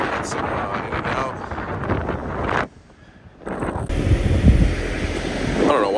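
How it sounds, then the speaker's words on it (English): Strong wind buffets the microphone outdoors near Santa Nella, a steady roaring rumble that drops briefly and then returns louder, with a voice talking over it at times. "it's super windy right now"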